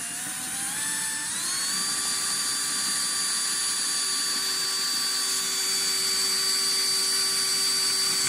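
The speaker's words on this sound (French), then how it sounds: "je vais vous montrer pour percer le trou final du foret" A power drill bores the final hole through the steel handlebar of a Rieju MRT 50cc motorcycle, its close, steady whine rising in pitch as the motor spins up, then holding a constant high tone throughout.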